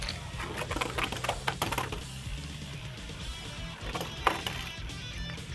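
Beyblade Burst spinning tops launched in Slingshock mode, a burst of rapid clattering collisions and scraping in a plastic stadium, followed by a steady whirring spin with occasional sharp knocks, close and fairly loud.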